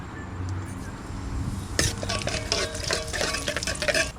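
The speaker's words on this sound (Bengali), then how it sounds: "তেল দিয়ে দিচ্ছি কালো জিরে ফোড়ন দেবো" Nigella seeds tempering in hot oil for tel koi made with ripe winter koi fish: a sudden burst of crackling sizzle about halfway through, with light clinks and spattering pops continuing to the end.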